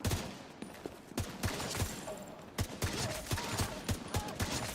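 Rapid bursts of gunfire from a weapon in the video game The Division 2, loud and close, firing in repeated volleys with short gaps between them.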